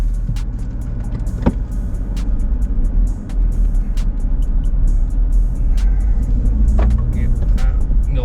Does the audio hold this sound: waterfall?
no